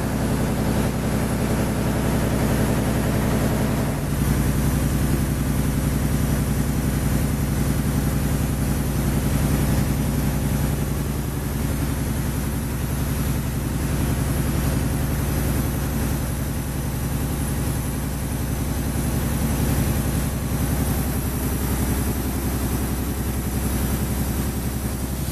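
An ultrasonic seaming machine seals the edge of carpet backing with a loud, steady mechanical drone and hum that runs unbroken throughout, with no voices.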